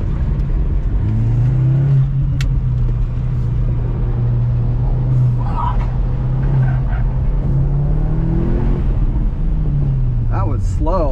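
A car engine revving hard during an autocross run on sticky tires, a loud close in-cabin drone whose pitch holds steady, then dips and climbs again near the end, with a person talking over it.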